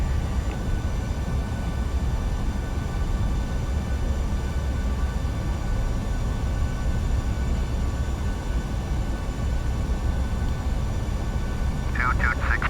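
Steady, loud engine roar and low rumble from a PMDG 737-800 airliner on the runway just after landing in the Prepar3D flight simulator, continuing evenly throughout.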